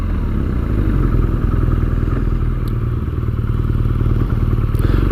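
A 2017 BMW RnineT Scrambler being ridden, its engine a loud, steady, throbbing drone close by for several seconds with no speech.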